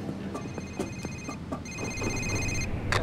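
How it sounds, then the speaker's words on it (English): A telephone rings repeatedly in the heist video game Payday 2, with bursts of trilling bell tones at a steady rhythm over a busy background of game ambience and clattering. "The phone's ringing."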